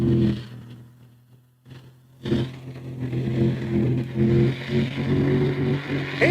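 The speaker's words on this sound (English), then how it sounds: "He's got some RPMs, but he's got low-end torque." A mud racing vehicle's engine revs hard while plowing through mud in Orangeburg, South Carolina, a low rumbling roar that dips briefly, then surges back loud and sustained with uneven bursts.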